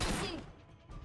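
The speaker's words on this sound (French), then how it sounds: "Non, on me tire dessus." Gunfire erupts in the video game Borderlands as a loud, dense burst of shots that fades quickly into a quieter tail.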